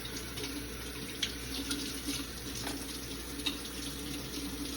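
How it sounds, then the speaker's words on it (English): Tap water running steadily into a kitchen sink while vegetables are rinsed, a constant soft splashing hiss with a few faint clinks. "And then we wash that off."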